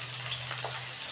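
Bata fish frying in hot oil, a steady broadband sizzle with a low electrical hum underneath, close and continuous for about a second with no talking.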